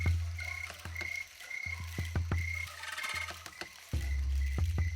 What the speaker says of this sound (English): the leaf-like insect has a proclivity for making a lot of noise, especially on warm summer nights